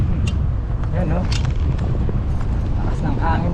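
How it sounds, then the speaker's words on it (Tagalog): Strong wind buffets the microphone during an outdoor ride in Zambales, a loud constant low rumble with a few faint sharp sounds over it. "Lakas ng hangin dito."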